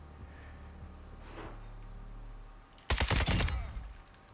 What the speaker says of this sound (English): I'll go take pot shots at these guys